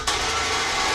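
Electric winch motor spooling out cable, a steady close whine and hum that starts abruptly and holds constant through the brief moment.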